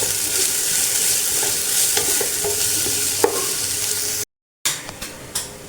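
Crushed green chili, shallots and garlic fry and get stirred in a pan for egg biryani, a steady close sizzle with scraping stirs and a sharp clack, then a brief silence and a few more stirs.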